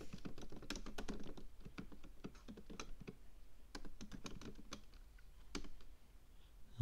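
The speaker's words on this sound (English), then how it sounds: "And we'll type Axios." Quiet typing on a computer keyboard while coding a React app, irregular bursts of individual key taps with short pauses between them, close and soft with no speech.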